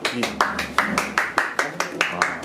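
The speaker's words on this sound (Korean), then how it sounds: "자체 박수" A small group claps in a steady, even rhythm for a visiting drummer at an interview event, with seven or so crisp, close claps spaced about evenly apart.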